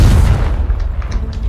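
A Confringo explosive spell in Hogwarts Legacy, a single heavy booming blast up close, its low rumble rolling away over a second and a half.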